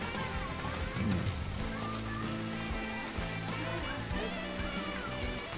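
Rain falls steadily, a soft, continuous hiss of drops on surfaces heard at low level throughout, with faint indistinct background sounds underneath.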